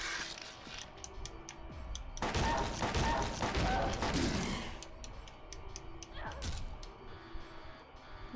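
Gunfire in the Silent Hill 2 video game: a dense two-second burst of loud, rapid shots near the middle, set against a quieter creaking, mechanical ambience before and after.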